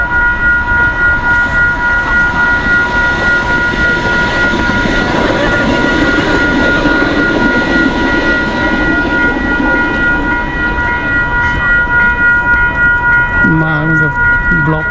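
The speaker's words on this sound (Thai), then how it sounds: "โอ้สงสัยรถไฟฟ้ามา" An electric train rumbles past close by with a steady roar and hum, a loud whistle-like tone near the end, and a person talking over it.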